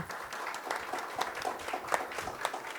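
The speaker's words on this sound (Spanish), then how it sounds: "Pues un aplauso para estos 3 maestros" An audience claps for three teachers at an anniversary talk, a fairly quiet, thin patter of hands with scattered sharper claps, fading slightly near the end.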